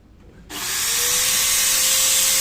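A power drill, used to reset a motorcycle speedometer, whirs up to speed and keeps running steadily at a high, loud pitch.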